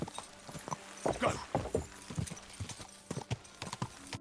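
Horse hooves clip-clop at a gallop in the medieval game Kingdom Come Deliverance 2, a quick uneven rhythm of close, moderately loud hoofbeats with no talking.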